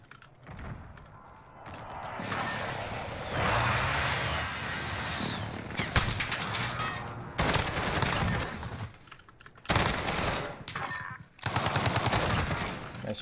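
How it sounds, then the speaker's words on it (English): A precision airstrike in a shooter game unleashes long, roaring bursts of heavy gunfire and rumbling blasts, loud and sustained, broken by brief pauses before fresh volleys. "Friendly precision airstrike on the way."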